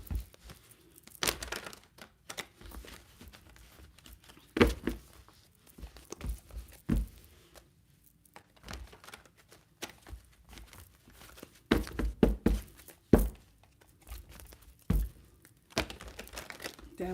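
A deck of tarot cards handled and shuffled in irregular bursts of soft slaps, rustles and crinkling taps, close up and fairly quiet, with brief pauses between the movements.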